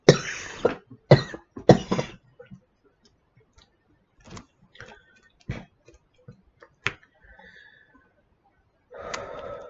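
A woman with an irritated, scratchy throat coughs in a few sharp close bursts, then clears her throat with scattered small rasps and clicks, followed by a short muffled throaty sound at the end.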